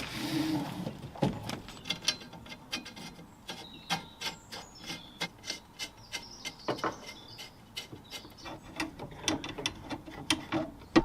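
Hoses are screwed onto an oil radiator being fitted in a Renault 4L, giving a run of quiet, close ratcheting clicks and scraping rubs in an irregular rhythm, with no talking.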